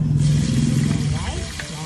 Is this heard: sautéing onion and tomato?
yes